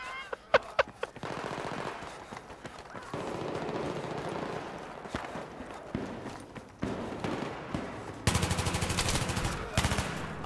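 Gunfire crackles in Battlefield 3 during a Gun Master match on Talah Market, with sharp bursts of shotgun and automatic shots spread across the stretch and a loud rapid burst near the end.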